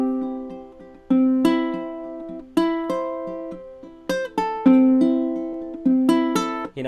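Individual ukulele strings plucked one after another at uneven strength, some notes hitting hard and bright while others come out softer, each ringing and decaying before the next attack.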